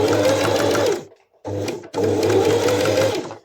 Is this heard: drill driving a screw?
no